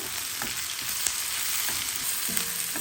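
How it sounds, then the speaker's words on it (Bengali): Green chillies and tomato fry in a pan for pasta, giving a continuous bright sizzle and crackle with a few soft stirring scrapes and no voices. "কাঁচামরিচ, টমেটোটা আমি 1 মিনিট একটু ভেজে নেব।"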